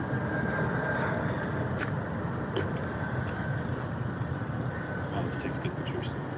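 A Delta Airbus A321neo landing on runway 24R at LAX, heard as a steady broad jet roar spread over the whole stretch, with a person talking over it.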